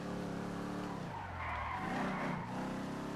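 A car drifting in GTA 5 lets out a sustained tire squeal over a revving engine, loud and close throughout.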